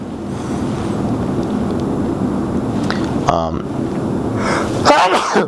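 A single sharp sneeze bursts out near the end, close and loud, over a steady rumbling background of engine-like noise.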